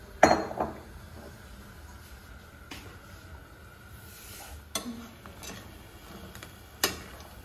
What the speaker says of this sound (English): Now mix crabs with masala nicely.